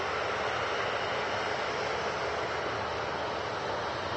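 A passenger aircraft on Singapore flight 302 arriving at Manchester Airport gives a steady, broad jet-engine roar that holds even and fairly loud throughout, with no talk over it.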